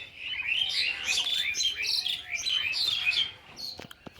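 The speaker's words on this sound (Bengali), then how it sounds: "তো শুনতে পাচ্ছ এখানে ওখানে পাখিরা কিচিরমিচির করছে।" Several birds chirp and tweet in quick, overlapping calls on a village morning, fairly close and continuous, with no talking.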